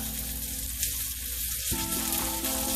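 Duck breast fat sizzling and frying in a pan with potatoes, a steady close crackle that carries on without a pause and grows slightly louder near the end.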